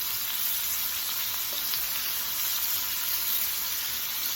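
Jerk shrimp sizzling in a hot pan, a steady, dense frying hiss that runs continuously and evenly throughout.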